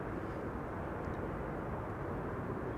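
An airliner arriving at Amsterdam Schiphol Airport, a distant, steady low engine roar and rushing noise with no distinct peaks, fairly faint.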